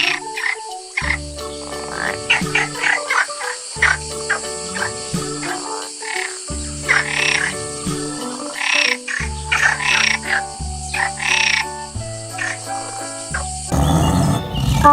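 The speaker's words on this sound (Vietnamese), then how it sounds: "Con ếch." Frogs croaking in a rapid series of loud, repeated throaty calls in short bursts, with insect-like chirring mixed in and a brief noisy wash at the very end.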